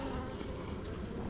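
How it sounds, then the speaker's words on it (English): Honey bees hum inside an open beehive during an inspection, a low, steady, faint drone of many wings that holds evenly throughout. "There's so many bees in the bottom."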